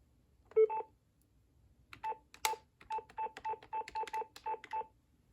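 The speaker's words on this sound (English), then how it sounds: "Somehow the tone generator sounds kind of scratchy in this machine" An early-1990s desk phone unit from a thrift store dials with DTMF touch tones, a slightly scratchy-sounding generator giving one tone, then a quick rhythmic run of about a dozen short beeps, clear and alone.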